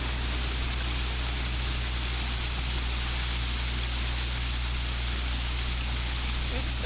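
Sea water surges through Darwin's Toilet, a rock inlet in the Galapagos, as a steady broadband rush with a low rumble running without pause, loud and close.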